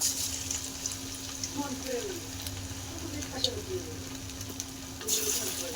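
Chicken lollipops deep frying in hot oil a few pieces at a time give a steady, low sizzle with small bubbling pops and a brief louder crackle near the end, with faint speech in the background.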